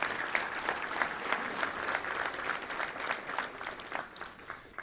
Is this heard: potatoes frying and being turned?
no